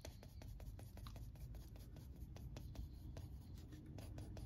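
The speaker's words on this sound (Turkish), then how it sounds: "Küpümü çiziyorum." A pencil draws the lines of a cube on paper, making steady, faint scratchy strokes in a quick repeating rhythm, close up and quiet, with no talking.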